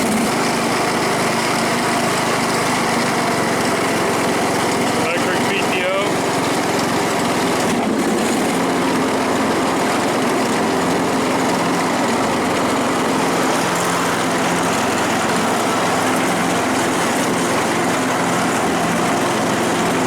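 A Husqvarna lawn tractor engine runs steadily and loudly at close range, a continuous drone with a brief change in tone partway through.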